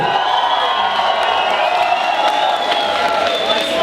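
Applause and cheering from a student audience at a tablet giveaway event, steady clapping with scattered whoops and shouts under a continuous hum, moderately loud throughout.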